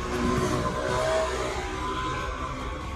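A motorcycle passes outside, its engine a steady, fairly loud drone with a slight rise and fall over three seconds. No one speaks.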